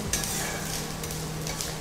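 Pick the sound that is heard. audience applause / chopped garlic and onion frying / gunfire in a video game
chopped garlic and onion frying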